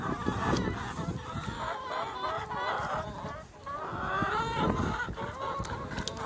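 A flock of about 125 laying hens on deep bedding clucks and squawks continuously nearby, a busy overlapping chorus of fowl with no talking.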